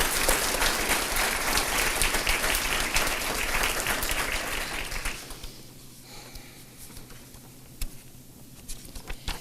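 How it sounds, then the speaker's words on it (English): Audience at an adult education graduation ceremony applauding, a dense burst of clapping for about five seconds that thins out into a few scattered claps. "Let's just have one more round of applause for our speakers."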